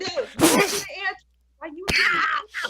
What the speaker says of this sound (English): that was a sneeze, not a bite.